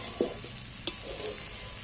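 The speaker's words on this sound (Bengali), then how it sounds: "ডিমটা হালকা করে ভাজলে তাহলে ডিমটা একটু নরম নরম হবে" An egg sizzles softly in hot oil in a pan, a quiet steady frying hiss with a couple of brief scraping stirs, no talk.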